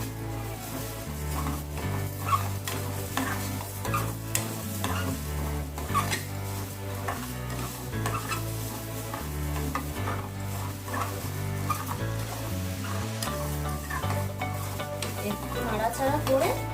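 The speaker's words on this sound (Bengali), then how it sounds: "একটু নাড়াচাড়া করে" Food frying with turmeric in a pan is stirred, with a continuous sizzle and repeated scraping strokes under steady background music, close and fairly quiet.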